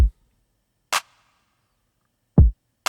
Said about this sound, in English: the drums started out, of course, with a kick and a clap